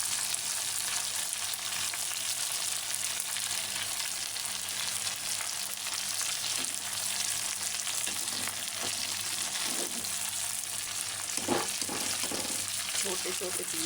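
Pieces of chicken tikka fry in a pan with a dense, steady sizzle and hiss throughout, plus a few scraping stirs toward the end.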